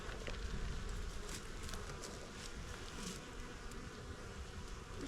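Honeybees buzz in a dense, steady hum around the hive of an overwintered swarm, a close, continuous drone with occasional louder passes.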